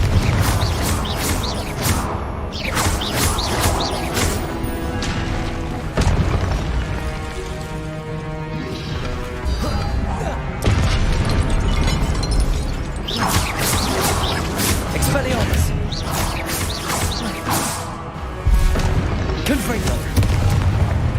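Confringo blasting spell cast in Hogwarts Legacy, heard as repeated loud booming blasts and crashes over busy game music and effects, with a voice shouting spell names between the impacts.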